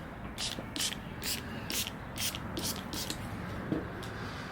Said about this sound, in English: we're just gonna spray here